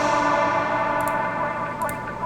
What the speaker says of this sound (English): Give it like a nice little reverb throw.